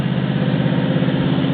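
A 1974 Buick Regal's 350 V8 idles after a fuel pump replacement, giving a steady, close, loud low rumble with an even pulsing beat.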